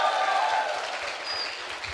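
An audience at a church retreat claps its hands together. The applause is fairly loud at the start and fades gradually, with a faint voice or tone over it.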